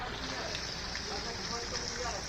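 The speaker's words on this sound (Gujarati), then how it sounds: "મોડાસા શહેર અને ગ્રામ્ય પંથકમાં ભારે વરસાદ વરસ્યો" Heavy rain falls on the streets of Modasa town in Aravalli district, a dense, steady hiss that continues throughout, with speech also present.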